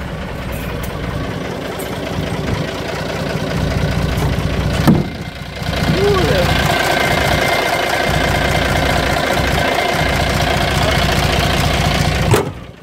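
An engine is started and left idling, giving a steady mid-pitched running drone with a short break and restart near the middle, loud and close, with little talk.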